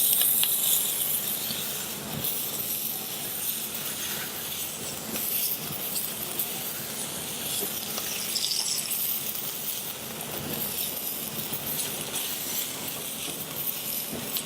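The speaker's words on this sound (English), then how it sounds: "This is a plancha, it's 450 degrees. And all we're going to do is give it a quick caramelization." Meat sears on a 450-degree plancha in a Michelin-level restaurant kitchen, a steady, bright hiss with occasional spits, continuous and fairly close.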